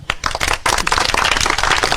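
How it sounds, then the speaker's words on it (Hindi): An audience clapping, rapid dense hand claps from a crowd filling two seconds after a short pause, with no voices. "ताली बजाइए आप लोग"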